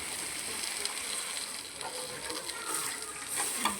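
Masala gravy for a vegetarian pointed gourd dorma bubbles in the pan as water goes in, giving a steady close sizzle with brief hissing surges.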